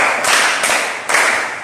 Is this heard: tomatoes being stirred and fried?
no